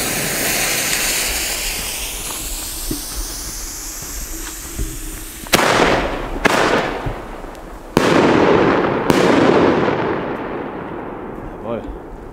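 Blue 30 mm fireworks whistle upward in long rising shrieks, then burst in several sharp, loud cracks and booms in quick succession, with a crackling tail and voices faintly present.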